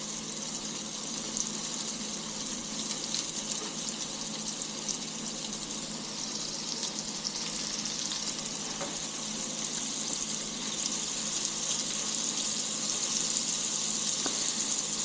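A crappie fillet sizzles and bubbles steadily in hot frying oil, a dense continuous hiss that stays loud and even throughout with no one talking.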